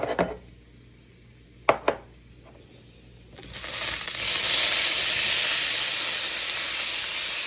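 Beans go into a hot pan and start a loud, steady sizzle and hiss that rises after a few sharp clatters and then holds, with no talking.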